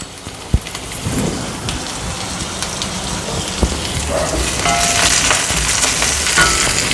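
Curry leaves dropped into a pan of sautéed onions, a loud continuous hiss and crackle of frying with a couple of sharp pops, building slightly toward the end.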